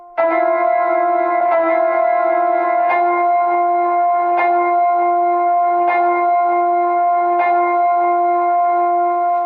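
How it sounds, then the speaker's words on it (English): Synth tones through a GS-201 MKII reverb effect set to reverb only with no echo, sustained bell-like chords re-struck every second or so, each leaving a smooth reverberant wash, loud and alone. "you can also set it to be only reverb only. In that case, you hear only the reverb"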